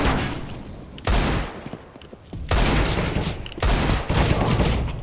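Loud bursts of automatic rifle fire in a CS:GO competitive match, three heavy volleys close together with brief gaps, barely any talk over them.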